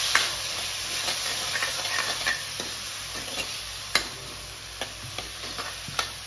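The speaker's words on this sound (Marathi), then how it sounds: "हा बघा, कांदा आपल्याला भाजून घ्यायचा आहे, मऊ करायचा आहे कांदा तेलामध्ये." Onion frying in oil in a pan on a high gas flame, a steady close sizzle and hiss with scattered stirring clicks and scrapes from a utensil, no voices.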